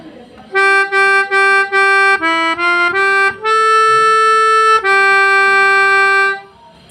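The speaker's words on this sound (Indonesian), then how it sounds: "kalau misalnya diaplikasikan pada pianika, bunyinya seperti ini." A reedy melodica plays a short melody: a few repeated even notes, a quick run of shorter notes, then two long held tones, loud and close with no talking.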